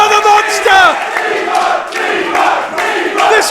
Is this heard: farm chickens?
no